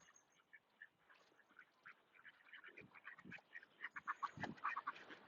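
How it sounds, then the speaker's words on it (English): Ducks quack repeatedly in an uneven outdoor chorus, faint at first and then louder and busier, with several birds calling over one another. "Ducks think I'm going to feed them."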